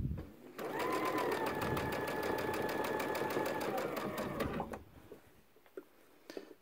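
A sewing machine stitches a Christmas stocking in one steady run of close, rapid needle strokes for about four seconds, then stops, leaving a few faint clicks and handling sounds.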